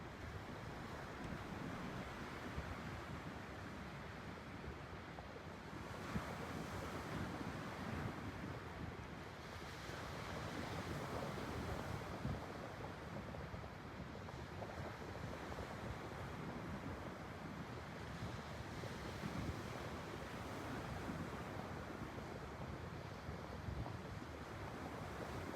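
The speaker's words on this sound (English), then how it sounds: "listening to the waves" Gentle ocean surf laps against the shore at St. George Island State Park on Florida's Gulf Coast, a soft continuous wash of waves mixed with light wind noise, distant and quiet.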